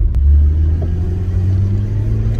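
A Rover 213S SD3 car picks up speed on a test drive, its engine a steady, close low rumble that builds gently from low revs, heard from inside the cabin with no talking.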